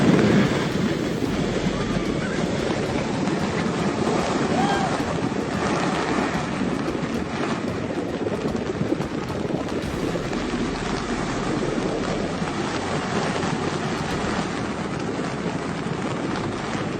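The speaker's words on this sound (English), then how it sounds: "The Black Sea coast of Georgia was hit by a storm of 8 points." Strong wind roars continuously with heavy, rushing surf-like noise, a dense storm soundscape without pauses, during a force-8 storm on the Black Sea coast of Georgia.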